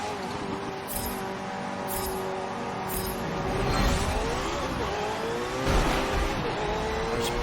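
Racing car engine in Forza Motorsport 7, droning steadily with rising revs and shifting pitch, a few sharp high hisses and a louder surge near the end.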